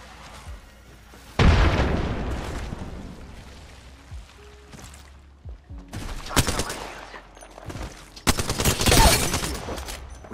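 A frag grenade blast in Apex Legends battle royale gameplay, heard as loud booming explosions and bursts of gunfire, with a strong detonation around the middle and another heavy blast near the end.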